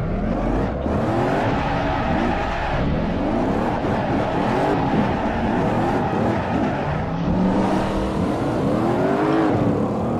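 Porsche Panamera Turbo engine in the Assetto Corsa racing game at Lake Louise, loud and continuous, with rising and falling revs through repeated gear changes and faint tire noise.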